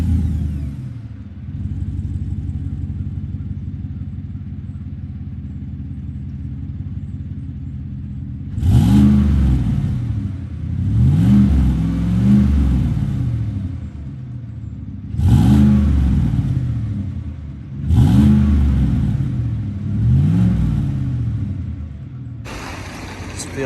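A 2018 Chevrolet Silverado High Country with the 6.2 engine idles quietly before being revved five times in a row, each loud, rising roar falling back to idle in a steady rhythm.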